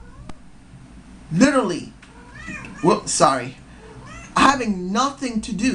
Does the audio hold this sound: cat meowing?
yes